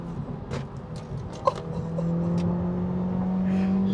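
A 2018 Subaru WRX being driven through corners, its engine humming steadily from inside the cabin with a rising drone that swells midway and holds, with a brief knock and light road noise.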